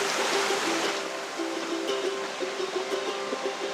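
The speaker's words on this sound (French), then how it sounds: "Vous marchez complètement dans la rivière." Water rushes steadily as someone wades straight through a flowing mountain river on the Tour du Mont Blanc trail, a continuous close wash of current with a faint tonal hum running underneath.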